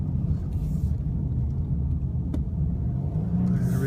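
A 2015 BMW 528i leaving a freeway and taking a tight turn gives a steady low engine and road rumble from inside the cabin, with one brief click partway through.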